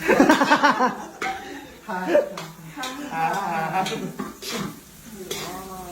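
Onions sautéing in a pan after garlic, heard as a light sizzle and clinking spatula scrapes beneath a person talking and chuckling most of the time.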